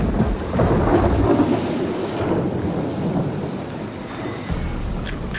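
A tropical thunderstorm pours down heavy rain with deep rolling thunder, a dense continuous roar that swells and eases slightly, loud and close.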